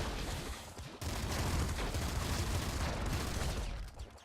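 Dense, rapid gunfire from the video game Nuclear Throne, a loud continuous barrage of shots with explosive bursts that briefly drops out and then resumes, with no talking over it.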